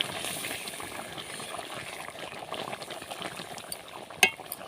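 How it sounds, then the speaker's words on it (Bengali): Ghugni curry seasoned with meat masala simmers in a pan, giving a steady low bubbling hiss throughout, with one sharp metallic clink near the end. "এক মিনিট আমি ভালোভাবে ফুটিয়ে নেব।"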